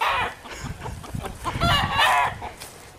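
A chicken clucks and squawks in World of Warcraft, a cluster of close, loud fowl calls over about three seconds with a short crowing note.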